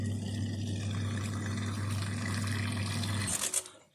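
Liquid is poured into a car battery during a home repair, a steady close trickle and gurgle that runs for about three seconds and then tapers off into a few last drips, with no talking.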